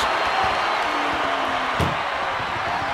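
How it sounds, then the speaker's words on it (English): A single heavy body slam into an ambulance lands in a WWE 2K24 SummerSlam ambulance match between Cody Rhodes and Brock Lesnar, with a sharp thud cutting through steady arena crowd noise. "Powerbomb into the ambulance?"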